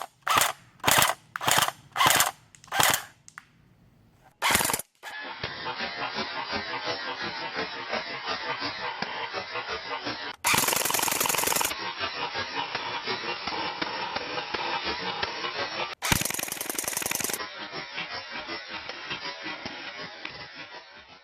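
A Snow Wolf PPSH-41 airsoft replica fires repeatedly at close range, first in several short sharp bursts with brief gaps, then in long continuous rapid-fire strings of mechanical clacking, loud and without talk.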